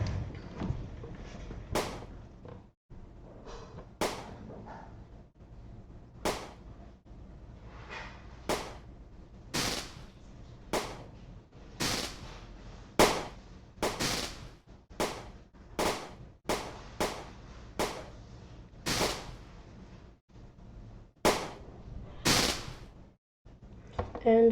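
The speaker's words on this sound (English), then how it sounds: "let's watch the firework display" Fireworks in the video game Theme Park Tycoon 2 go off as a long series of sharp, crackling bangs, irregular at first then coming quicker, over a low background hum.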